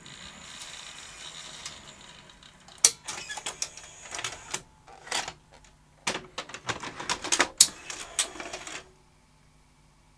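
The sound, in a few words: Betacam SP UVW-1400P video recorder loading and changing tape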